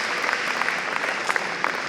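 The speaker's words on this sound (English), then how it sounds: "Let's clap for him again." An audience at an awards event claps steadily, a dense patter of many hands close by, with no talking over it.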